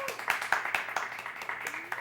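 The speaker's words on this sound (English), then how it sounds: "When the crew applauds, it's a good thing." A small studio crew applauding, a steady run of sharp individual claps at moderate distance, with a voice talking underneath.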